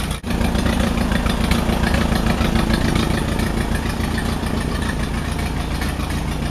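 An Allis-Chalmers WD45 tractor engine idles steadily and loudly up close, a continuous low rumble with an even, unbroken rhythm and no talking over it.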